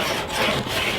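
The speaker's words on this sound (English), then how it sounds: "now we're going to scrape" Metal hood filters are scraped down after a five-minute chemical soak, giving a steady, close rasping scrape that runs continuously for about a second with slight dips in intensity.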